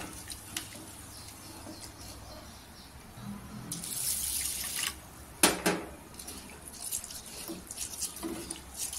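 Rice grains being rinsed and swished in water for making rice kheer, with soft trickling and splashing, a brief louder splash midway, then gentle dripping and pouring close by.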